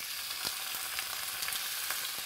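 Squid sizzles and crackles in a hot pan with garlic, a soft, steady frying hiss broken by small pops and spits throughout.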